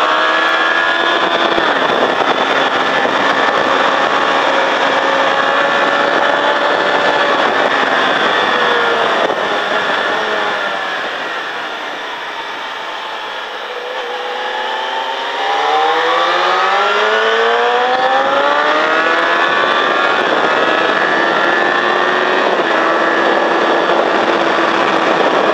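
Several motorcycle engines lapping the Mettet race circuit during a riding-school track session, loud whining revs rising and falling as bikes pass close, a brief dip before the next machine screams by.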